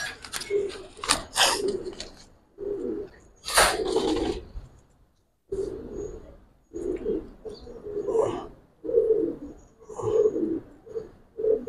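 A male pigeon of an old Giribaz breed coos in a series of close, repeated low throaty phrases with short pauses, a few brighter chirps from other birds scattered near the start.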